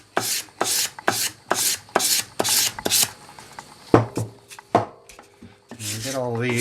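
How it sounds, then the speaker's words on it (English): A 1950s Record #4 hand plane's sole is rubbed on 400 grit sandpaper over a flat block, giving a steady run of close, rhythmic rasping strokes that turn into shorter, irregular scrapes, with a brief voice near the end. "so 400 grit with a good flat block"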